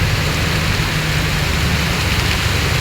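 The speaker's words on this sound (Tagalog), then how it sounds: "Hindi pa humupa yung ulan." Heavy rain pouring steadily onto a flooded street at night, a loud, dense, unbroken hiss of water with a low rumble underneath and no voices.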